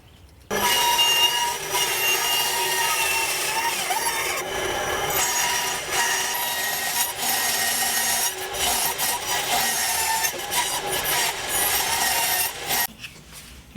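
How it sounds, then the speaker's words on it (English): A bandsaw cuts a wooden knife handle to shape, giving a steady, loud, close whirring rasp that starts suddenly, holds with small shifts as the blade works the wood, and cuts out near the end. "I'm going to take this over to the bandsaw and cut the shape around these bigger parts that are extra."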